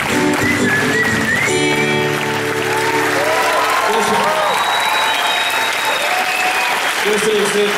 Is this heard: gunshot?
no